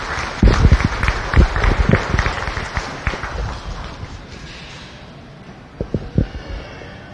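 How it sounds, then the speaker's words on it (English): An audience claps at a county fair beef show, a dense burst of applause that swells and then thins out, with a few scattered late claps near the end. "Let's go ahead and give them one more great big round of applause"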